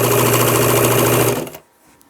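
A sewing machine runs steadily, stitching fabric for an upcycled summer dress, a loud continuous mechanical whir lasting about a second and a half before it stops, leaving near silence.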